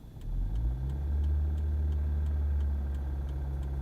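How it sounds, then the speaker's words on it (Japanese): The engine of a 14-year-old Suzuki Swift with a manual transmission noise fault revs as the accelerator is pressed, a steady, close low rumble that swells slightly, with a faint regular ticking above it. "ここでアクセル吹かすと"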